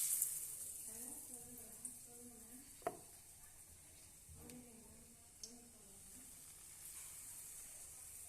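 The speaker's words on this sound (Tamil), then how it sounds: "அதில் ஒன்று ஒன்றா எடுத்து நனைச்சி பொரித்து எடுத்துக்கலாம்" Leftover idli dipped in beaten egg fries in hot oil, giving a soft, steady sizzling hiss with a few faint clinks beneath a voice talking throughout.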